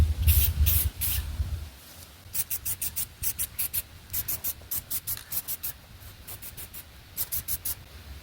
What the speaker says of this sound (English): Now you see me spraying these centers at different angles